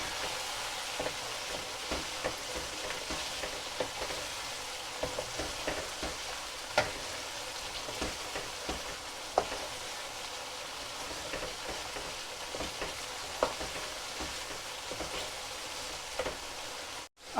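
Chicken karahi fries in hot oil in a pan, giving a steady, soft sizzle with occasional scraping and clinks as it is stirred and mixed, continuous and fairly close, with no talking.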